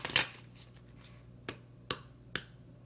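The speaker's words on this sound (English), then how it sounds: "I'm going to shuffle and clear this deck" A deck of cards is shuffled close by, with a quick riffling burst at the start followed by a few sharp, evenly spaced taps and snaps as the deck is squared and handled.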